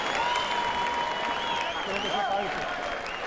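Boxing crowd applauding and cheering in an arena, a steady wash of clapping with whistles and shouts throughout, close and loud.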